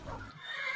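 A dark brown horse in the Minecraft Mo' Creatures mod gives one short, close, fairly quiet neigh, a quick whinny that rises and trails off.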